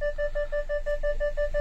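Car reverse parking sensor beeping while backing into a tight space against a step, a rapid regular series of about ten short electronic tones at steady pitch, alone over faint engine hum.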